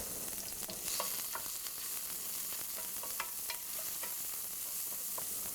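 Crushed small shallots sauté in hot coconut oil with salt for a Kerala ridge gourd stir fry, giving a continuous close sizzle broken by sharp clinks and scrapes of a spoon stirring the pan, with no voices.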